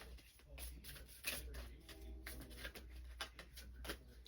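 Soft riffling of tarot cards being shuffled, a few quick flurries close by, with quiet room noise between them.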